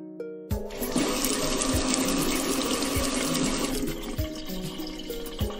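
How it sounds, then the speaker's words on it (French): Strong tap water gushes from a faucet, starting abruptly after a brief quiet tone and pouring loudly and steadily into a sink with splashing and thumps. "Arthur ouvrit le robinet d'eau."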